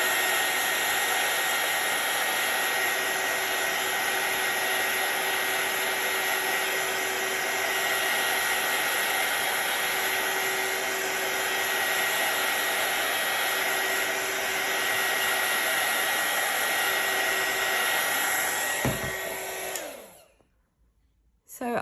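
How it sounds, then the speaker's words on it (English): A heat tool dries a handmade watercolour card with a loud, steady, close whirring blast lasting about nineteen seconds before it cuts off abruptly, followed by near silence and no talking. "You can either let it dry by itself or use the heat tool that I'm going to do now just for quickness."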